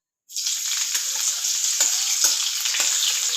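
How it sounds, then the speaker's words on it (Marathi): Green chillies hit hot oil with cumin and mustard seeds, giving a loud, steady sizzle that starts abruptly and carries on with a few faint crackles and pops, no voices. "जिरे मोहरी टाकल्यानंतर आपण त्यात टाकून घेणार आहोत मिरच्या"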